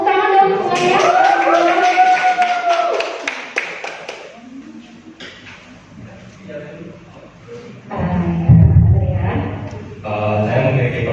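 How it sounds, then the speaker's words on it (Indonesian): Clapping from the audience at a high school student council candidate debate, with distinct hand claps and taps in the first seconds, then voices talking over scattered noise and thumps. "Tepuk tangan dong semuanya."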